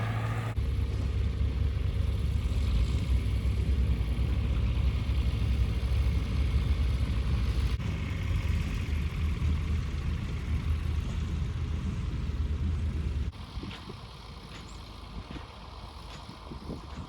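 A farm tractor engine drones loud and close while pulling a wagon of straw at wheat harvest, a steady low rumble that drops in level toward the end.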